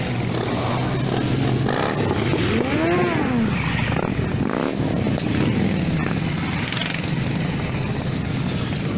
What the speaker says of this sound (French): le retour de la balade à moto